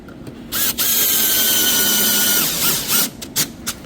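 A power drill whines loudly for about two seconds as it drives in, followed by a few short, quick bursts of the motor.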